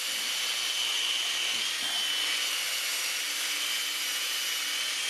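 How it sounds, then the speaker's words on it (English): A hole in a wooden whirligig part is reamed out, giving a steady, close scraping and grinding rasp that runs unbroken for several seconds with no talking. "And you want to ream this out really well."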